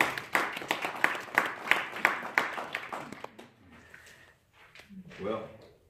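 A church congregation claps hands in quick, rhythmic unison for about three seconds, then the clapping thins out and fades, leaving a few scattered claps and murmuring voices in the room.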